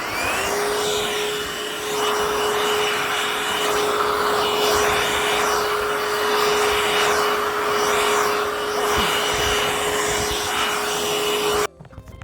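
A new cordless Hoover vacuum cleaner runs with a steady, loud whine close by for about eleven seconds before switching off abruptly.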